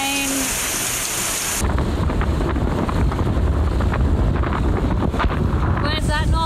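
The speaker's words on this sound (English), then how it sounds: "More bloody rain." Heavy rain pours down on a sailboat in a dense, steady roar, with gusty wind buffeting close by and a few brief tonal sounds near the start and end.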